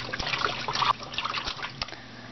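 Water swishes and trickles as cloth diapers are stirred by hand in a top-loading washing machine, a close, steady sloshing with a few small splashes.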